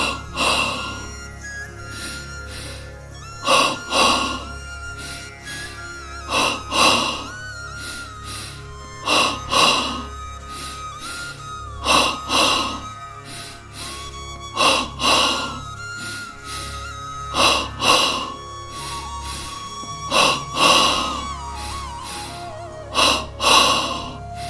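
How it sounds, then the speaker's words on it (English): Rhythmic forceful yogic double breathing, a sharp two-part inhale then exhale repeated about every two and a half seconds, close and steady, over a soft sustained music drone. "begin double breathing."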